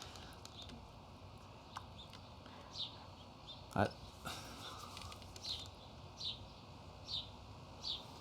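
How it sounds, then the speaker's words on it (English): Birds chirping outdoors, short faint high chirps repeating about once a second over a low background hiss, with one brief louder knock near the middle. "Birds chirping away."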